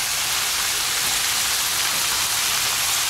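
Steady rain pours down over a rice field during harvest in the Mekong Delta, a dense, even hiss with no breaks, loud and close, with no voices.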